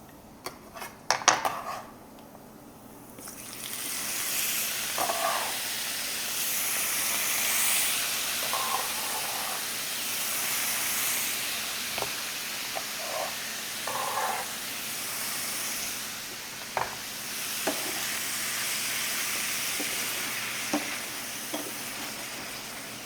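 Tomatoes cooking in a pan for sardines with balsamic give a continuous soft sizzle and steam hiss, broken by occasional clinks and scrapes of a utensil stirring against the pan, with no talk.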